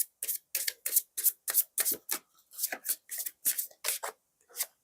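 Tarot cards riffled and slapped down in a quick run of about sixteen short, crisp bursts, close and fairly quiet, with no other sound between them.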